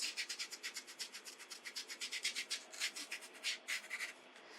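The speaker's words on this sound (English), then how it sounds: "So we're going to scrub right in here." A wet scrubber rubs paint on a painting of a wild pony in quick, rhythmic back-and-forth strokes, soft and close with no talking.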